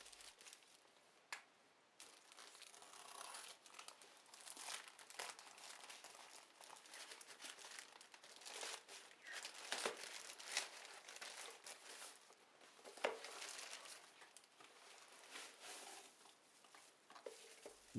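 A crumpled plastic package is torn open and handled close up, giving irregular crinkling, rustling and crackling bursts, quiet overall with sharper spikes, no talking.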